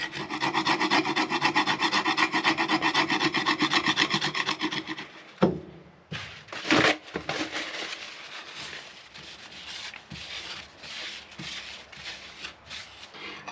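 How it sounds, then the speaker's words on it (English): Sandpaper rubbing steadily over a scratch on a 1980s Zodiac P-2040C CB radio casing, a fast rhythmic rasp for several seconds, followed by intermittent shorter scrubbing strokes and light handling knocks. "I think if I sand it down enough, I don't need a filler."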